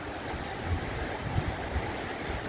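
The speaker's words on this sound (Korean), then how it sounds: "이런 계곡들에 이제 바위가 많아야 멋있죠. 그래야 물소리도 웅장하고" Water rushes over many rocks in a mountain valley stream at Unilam Banilam in Jeollabuk-do, making a continuous, full roar with no voices.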